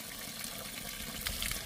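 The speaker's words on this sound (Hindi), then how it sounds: "और ये पानी यहीं पास से ही निकलता है और एकदम प्योर पानी है, क्रिस्टल क्लियर पानी है।" Water from a mountain spring in a hill village runs in a steady, close, continuous flow, with no voices over it.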